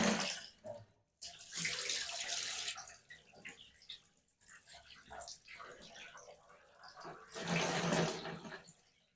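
Water runs and splashes while brass cartridge cases and stainless steel tumbler media are rinsed in a container over a drain, in bursts separated by brief pauses, loud and close.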